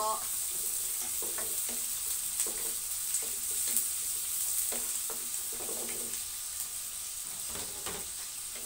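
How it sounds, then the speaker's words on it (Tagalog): Cooking oil spits and splatters while ginger fries in a pan, with a continuous hiss broken by sharp crackling pops throughout. "Tumitilamsik yung mantika!"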